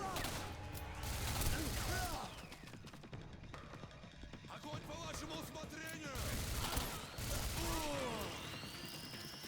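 Rapid gunfire from a spinning-barrel gun in the Singularity video game, a dense continuous rattle of shots with mechanical whirring, loud and sustained over game effects throughout.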